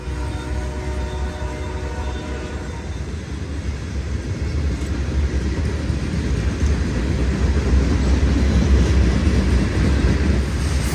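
A freight train with loaded gravel cars rolls past, a loud continuous rumble and clatter that builds steadily over several seconds, with faint wheel squeal early on.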